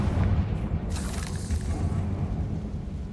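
Confringo fire spell blasting in Hogwarts Legacy, a deep rumbling boom with a burst of crackle near the one-second mark, heavy low-end roar sustained throughout.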